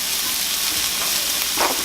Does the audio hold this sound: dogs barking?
no